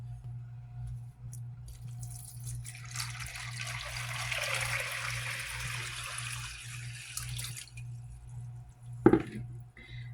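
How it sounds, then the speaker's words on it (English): Water pours steadily into a crock pot over dry pinto beans, a soft, continuous rushing splash lasting several seconds over a low hum, ending with a brief clunk. "So now what I'm going to do is add some water on top of these beans."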